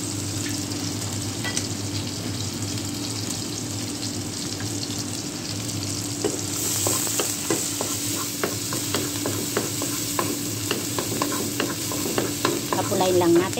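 Garlic and onion for fried rice sizzle and fry in a pan while a utensil stirs, with the scraping growing busier and more rhythmic partway through, close and steady with no talking.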